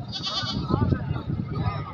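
Goats bleat amid a busy goat market after Eid, with the bleats mixed into steady background chatter and people talking nearby.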